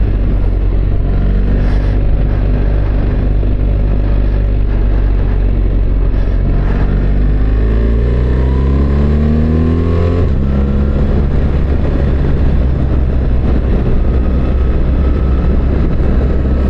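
Motorcycle engine droning loud and steady through a 180-degree corner on a road in the Eifel, the pitch sliding down and then climbing back as the rider slows and accelerates out, with constant wind rush.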